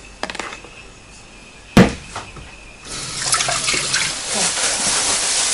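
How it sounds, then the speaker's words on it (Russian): Water is poured into a bucket to make brine for salting flounder. A sharp thump comes first, then a steady, fairly close pour builds and continues to the end. "наливаю"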